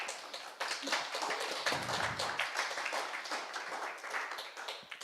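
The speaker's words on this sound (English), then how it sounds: "Massive round of applause for them." A student union hustings audience applauds the candidates, a steady, moderately quiet wash of many hands clapping that holds for about five seconds with no pauses.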